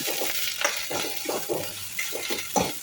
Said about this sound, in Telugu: అన్నం వేసిన తర్వాత మరొకసారి అంతా బాగా కలుపుకొని 2 నిమిషాల పాటు దీన్ని ఇలా బాగా వేయించుకోండి